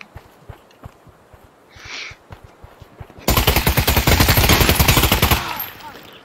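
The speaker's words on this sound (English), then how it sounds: "I can hear lots of shooting at them because we're full of bots" Rapid bursts of bot gunfire in the VR shooter Pavlov: scattered faint pops and a brief hoot-like tone, then a loud, dense stretch of automatic fire for a few seconds before it drops away.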